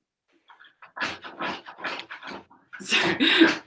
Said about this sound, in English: My dog just trapped himself in the bathroom